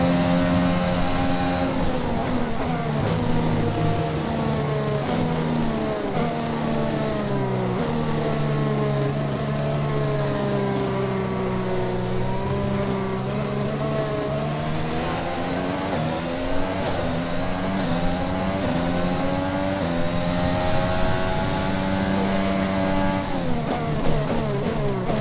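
Formula 1 cars in the F1 2021 video game scream through the final lap, a steady, loud, high-revving engine whine with gear-shift pitch swoops rising and falling continuously across the whole stretch, no voices.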